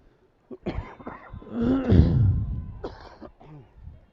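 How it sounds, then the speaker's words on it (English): A person coughs hard several times in a rough, hacking fit, close up, with breathy throat sounds between. "Wow, coughing up a lung."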